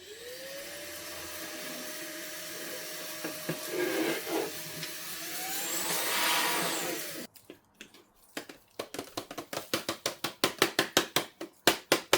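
A vacuum motor whines steadily for several seconds, then cuts off, followed by a quick series of sharp, irregular clicks and knocks.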